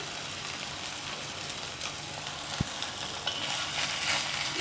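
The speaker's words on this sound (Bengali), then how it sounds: "তো ফ্রাই প্যানটা গরম, আমি মাখন দিয়ে রেখেছিলাম ওর মধ্যে।" Bread fries in melted butter in a hot frying pan, a soft steady sizzle with a faint crackle, broken by a single sharp knock against the pan midway.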